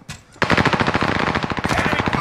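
Loud, sustained rapid-fire automatic gunfire in a military shooter video game, bursting in after a brief quiet moment and continuing without pause.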